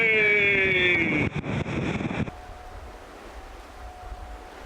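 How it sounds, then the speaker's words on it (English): Water pours off the sails of a sailing boat with a loud, close rush of wind and spray, then cuts suddenly to a much quieter, steady hiss. "Just the usual amount of water coming off the sails."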